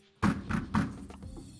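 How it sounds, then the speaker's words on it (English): Several knocks on a large vault door, three heavy, resonant thuds in quick succession followed by a softer tail, fairly close and otherwise alone. "I'm gonna knock on the big vault door."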